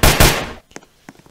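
Gunshots in the Roblox video game: two loud, close blasts in quick succession, followed by a few fainter sharp pops as they fade.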